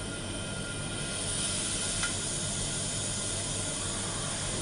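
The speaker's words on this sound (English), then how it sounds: "Can you hear the air going back in?" Air rushing back into a vacuum container holding a mercury tube, a steady broadband hiss that stays level and close throughout, with a faint brief click partway through.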